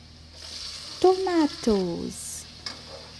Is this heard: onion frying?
yes